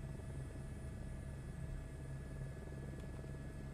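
Steady, droning helicopter rotor and turbine hum in Microsoft Flight Simulator 2024 as RPM is brought down for landing, a low continuous whir heard alone at moderate volume.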